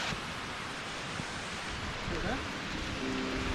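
Waterfall in a national park in New South Wales pouring heavily, a steady loud broadband rush of water filling the whole clip, with a brief voice cutting in near the end.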